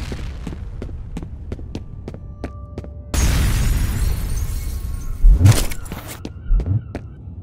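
A grenade blast in the video game F.E.A.R. Combat: after a run of quick metallic ticks, a loud burst of noise erupts and then deep, heavy booms rumble through, close and forceful, with no voices.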